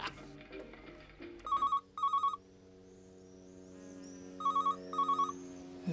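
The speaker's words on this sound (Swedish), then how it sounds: "Det ringer." A telephone ringing indoors in two paired bursts of electronic trilling, with a pause between them, heard over soft background music.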